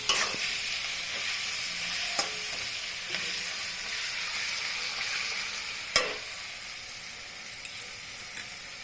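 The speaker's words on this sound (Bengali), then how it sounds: "দিয়ে একটু নাড়াচাড়া করব, কিন্তু গ্যাসের আঁচটাকে একটু কমিয়ে দিব।" Cauliflower stirred with spices in a frying pan over lowered gas, a steady sizzling hiss broken by sharp scrapes and clinks of the spatula against the pan.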